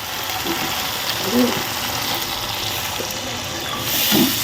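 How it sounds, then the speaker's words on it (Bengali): Water poured into a pan of rohu fish and pumpkin bori curry after the spice paste is fried, a steady hissing rush running for several seconds with a faint sizzle and a couple of soft clinks. "এবার আমি জল দিয়ে দেবো।"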